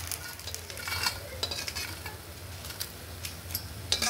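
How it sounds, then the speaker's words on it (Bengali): Small mourala fish fry in oil in a wok, giving a continuous close sizzle broken by repeated scraping stir strokes and light clicks of the utensil. "তেল দিয়ে খুব ভালো করে আমি মাছগুলো ভেজে নিয়েছি"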